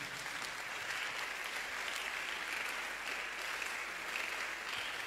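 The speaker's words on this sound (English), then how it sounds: "Clap for Jesus" A church congregation claps together during a sermon, a dense, steady wash of many hands that holds at even loudness throughout, with no voice standing out.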